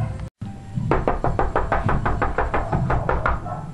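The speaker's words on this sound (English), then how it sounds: "Robert, I swear that was the front door in my closet" Someone knocks on a door in a rapid run of about ten sharp, close raps. The knocks follow a brief silence and sound over a low background hum, with no talking.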